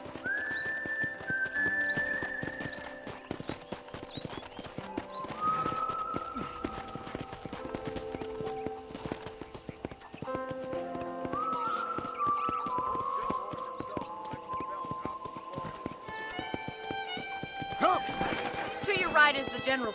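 A horse clip-clops along a ranch in Red Dead Redemption, steady hoofbeats running throughout beneath game music and ambient sound, with a voice speaking over parts of it.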